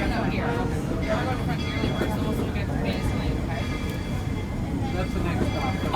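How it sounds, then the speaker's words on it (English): A steady, low rumble of a moving Walt Disney World Railroad train at Magic Kingdom with rattling carriage noise, constant throughout, and faint voices in the background. "please remain fully seated as the train is still in motion"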